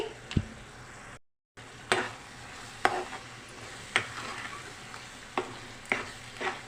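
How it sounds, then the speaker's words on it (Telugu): A spoon stirs potato kurma curry with grated coconut and coriander powder in a pan, scraping in regular strokes about once a second over a low steady sizzle. "ధనియాల పౌడరీ ఇప్పుడు ఒకసారి కలదిప్పుకుందామండి"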